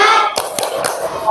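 Classroom group clapping during an ice-breaking clap chant, with a few sharp broadband claps in a loose rhythm over a continuous murmur of children's voices nearby.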